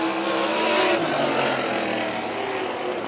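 Sprint cars roar around a dirt track at Butler Motor Speedway, a dense, steady engine drone with rising and falling revs, loud and continuous with no voices.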